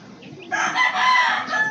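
A rooster crows loudly and close by in one long drawn-out call, preceded by a couple of soft clucks.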